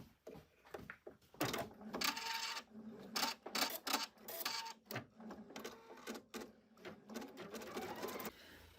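An embroidery machine with a spring foot stitches the first colour of a ribbon embroidery design, giving an irregular, close series of clattering stitch bursts at moderate volume.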